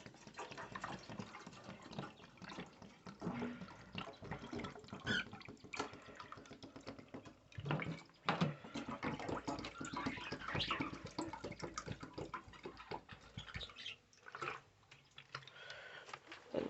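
Water pours and splashes continuously at a low level, with gurgles and occasional knocks of a container being handled.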